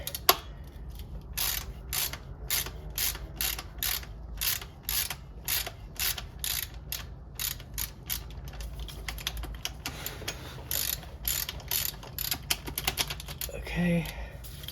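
Ratchet loosening the transmission fill plug on a BMW E9x 328i manual gearbox, rapid rhythmic clicking in repeated bursts close up, with a person talking briefly near the end.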